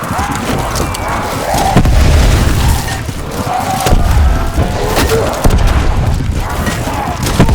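Cannon fire and explosions in Black Ops 4 Zombies: Voyage of Despair, dense continuous booming blasts with splintering wood crashes, loud and layered throughout with voices mixed in.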